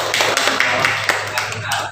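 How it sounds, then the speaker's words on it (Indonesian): A brief burst of clapping from a few people, close and fairly loud, fading out after a couple of seconds. "Tepuk tangan buat Amal."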